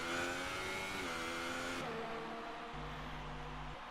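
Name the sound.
race car engine accelerating through Parabolica, from a racing video game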